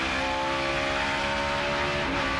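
A race car in a 2004 Busch Series race at Gateway holds a loud, steady engine drone with no clutch used on the speed shift. A brief pitch dip near the end marks the gear change.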